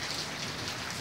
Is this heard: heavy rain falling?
yes